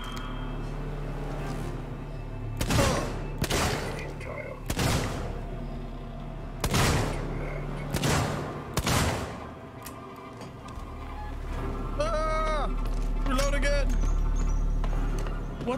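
Sharp gunshots from a weapon in the horror video game Alien Isolation, about seven loud cracks spaced irregularly over a low game hum, with a voice talking in between.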